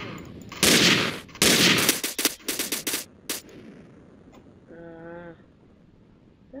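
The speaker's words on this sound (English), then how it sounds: "Ooh, double barrel looks like. Yes. This is why I love shotgun." Double-barrel shotgun blasts in the Roblox game Call of Robloxia, two loud close booms followed by a quick rattling burst of shots, then a brief tonal chirp at the end.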